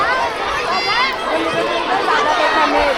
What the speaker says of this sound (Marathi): गर्दी पोरांची नुसती.